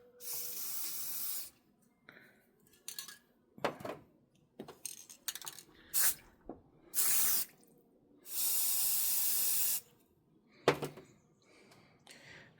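Paint sprays in short hissing bursts while hydro dipping flowers for a hummingbird birdbath, several loud blasts of a second or two separated by quiet gaps with clinks and knocks.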